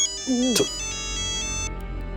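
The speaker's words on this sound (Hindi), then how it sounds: "ये लो वापस फोन आ गया।" A mobile phone ringtone in an Indian sitcom home scene: one short melodic warble that rises and dips, loud and close, then a steady hum with no speech.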